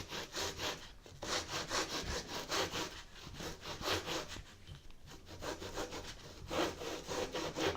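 A hand saw cuts through a model aircraft part with steady back-and-forth strokes, a quiet, close rasping rhythm of repeated pulls lasting several seconds with no talk.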